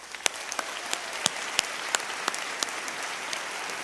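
Church congregation applauding at a service, a scattered run of claps with sharp individual hand slaps standing out against a steady background patter.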